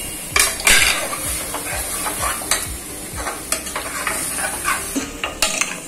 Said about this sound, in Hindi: अब इसमें ये पाया डालते हैं और भूनते हैं बराबर